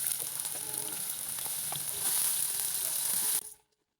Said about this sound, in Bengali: এখন দিয়ে দিচ্ছি তেল, তেলটা গরম হয়ে গেছে। এখন দিয়ে দেব পেঁয়াজ কুচি